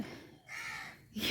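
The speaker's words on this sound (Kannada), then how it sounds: "ಇಲ್ಲಿ ಕಾಗೆ ಬೇರೆ ಕೂಗ್ತಾ ಇದೆ" A crow caws outdoors near a flowering garden plant, with two or three hoarse calls sounding faint and somewhat distant against a soft background hiss.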